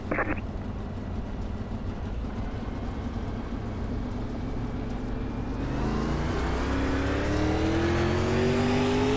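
Dirt late model race cars in the iRacing sim accelerate as a pack at a green flag on the Cedar Lake dirt track, a steady engine drone with rising revving harmonics, loud and continuous.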